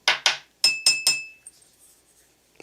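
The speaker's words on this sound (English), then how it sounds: "I like these jars because they're glass." Glass jars clink together in a quick series of five bright, ringing taps close by, followed by a few faint softer knocks.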